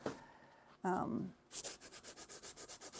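Abrasive rubbing with a sanding sponge: a short burst of scraping, then a steady run of rhythmic back-and-forth strokes, close and fairly loud.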